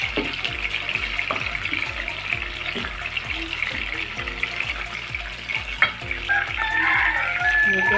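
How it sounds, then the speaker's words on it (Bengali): Chicken pieces fry in a wok with a busy sizzle and repeated scraping stirs at a steady rhythm. The noise swells louder near the end, with no talking. "আমাদের মুরগিগুলো কড়াই ভাজা হয়ে গেছে, আর একটু ভাজতে হবে"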